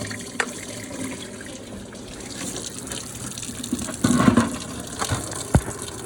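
Coolant water draining from the radiator of a 1994 Ford Tempo after the cap comes off, splashing onto the control arm, a steady trickling pour with brief gushes and a few knocks and clanks.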